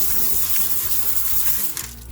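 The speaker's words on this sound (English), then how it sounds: "we're going to give them a good rinse" Tumbled rocks rinsed under a running tap make a loud, close, steady gush of water splashing into a sink, briefly dipping near the end, with no talking.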